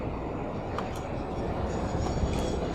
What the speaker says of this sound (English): Let's take a little quick ride on the train here.